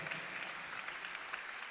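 Soft, steady applause from a church congregation during a sermon in Q'eqchi', a continuous even patter of many hands, faint and distant with no voices over it.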